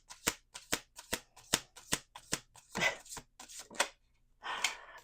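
Tarot cards are shuffled close up in a crisp, regular run of riffling snaps about every half second, followed by a few longer rustling bursts with short pauses between them.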